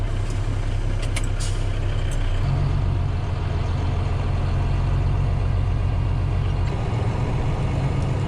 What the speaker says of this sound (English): I've got Aiden running a truck for me. This is his first time driving a big truck.